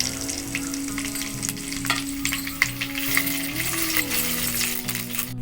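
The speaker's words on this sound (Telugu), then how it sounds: "వేడెక్కిన ఆయిల్లో వేసేసుకుంటున్నాం తాలింపులు." Tempering spices (chana dal, urad dal, mustard seeds, dried red chillies, green chillies and curry leaves) fry in hot oil with a steady close sizzle, light popping, metallic clinks of stirring and a low constant hum.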